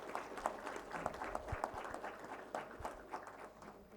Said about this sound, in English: And I request our audience to give a huge round of applause.